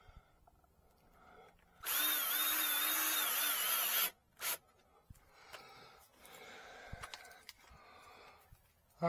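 A power drill drives screws into a greenhouse track, with one long steady whir of about two seconds, a short second burst, then softer handling clatter and rustling nearby.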